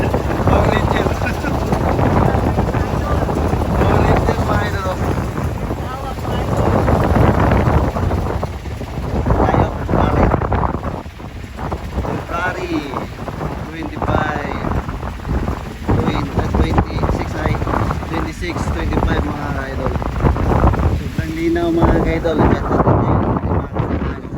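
Strong wind roars into the microphone over crashing waves and a fishing boat's rumble at sea, while voices talk on and off underneath.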